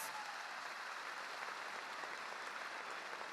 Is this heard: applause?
yes